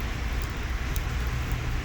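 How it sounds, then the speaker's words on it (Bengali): Steady hiss of heavy morning rain falling, constant and even throughout. "আজকে অনেক বেশি বৃষ্টি আসতেছে"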